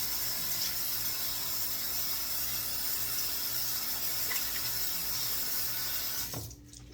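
Water runs from a bathroom sink faucet in a steady, broad hiss close by, with no talk, before the flow is shut off near the end.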